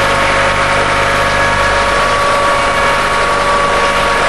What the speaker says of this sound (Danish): Halmmølle AM110T til traktordrift, der transporteres i traktorens trækningsophæng